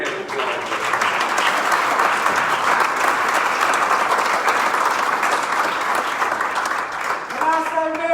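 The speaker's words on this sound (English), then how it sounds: "let's give her a real big hand of applause" Audience at a Rotary Club annual awards and officer installation gives a long, steady round of applause, dense and loud from start to finish, with a few voices rising near the end.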